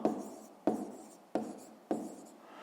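Handwriting on paper during a fifth-grade maths exercise, four quick strokes with pauses between them, close and soft, with no voices.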